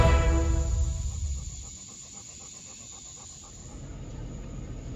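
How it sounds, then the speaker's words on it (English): Jake, worn out after a hike, pants in quick rhythmic breaths close by, strongest at the start and easing into softer steady panting under faint background hiss. "If you listen carefully, you can hear him panting here."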